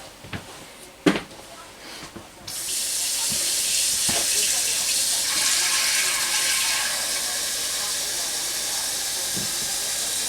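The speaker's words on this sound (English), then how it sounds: "and then add water." Water runs in a strong, steady rushing stream into a cooking pot with meat in it, starting after a few light knocks and continuing loud and unbroken to the end.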